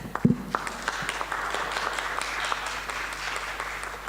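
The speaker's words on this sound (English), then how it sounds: "let's get some exercise by giving Stina a warm welcome too and clapping our hands" An audience claps to welcome Stina Gardell. The applause is moderate, steady and somewhat distant, with a couple of sharp knocks near the start and a low hum underneath.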